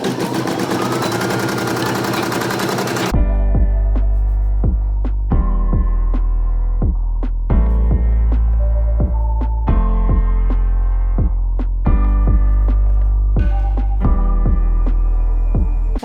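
A 4x4 hoop embroidery machine stitches onto stabilizer: after a brief burst of broadband noise, a steady loud mechanical hum runs throughout with regular rhythmic needle thumps, close and alone, no talking.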